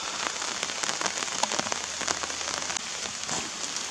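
Rain patters steadily on surfaces at Hocking Hills State Park, a dense close wash of drops with occasional sharper splats and no voices.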